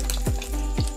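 Small fish-egg fritters frying in oil give a close, continuous crackling sizzle with faint bubbling pops throughout the brief moment.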